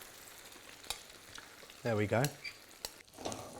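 Omelette mixture with feta poured into a hot frying pan gives a faint, brief sizzle and clatter with pan scraping, and a short spoken phrase sits over the quiet sizzle.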